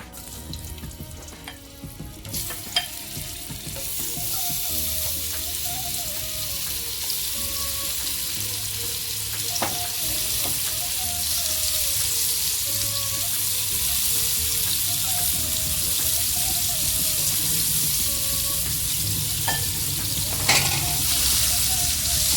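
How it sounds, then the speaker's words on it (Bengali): Prawns frying in oil in a frying pan for a spinach dish: a steady, loud, close sizzle that swells after the first seconds and keeps going, with occasional clicks and spits and no talking. "এবার চিংড়ি মাছগুলো আমি ভেজে নেব"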